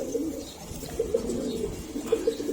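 Lal Pati pigeons coo in a loft, a pair of male and female giving repeated soft low coos at close range over a steady background murmur.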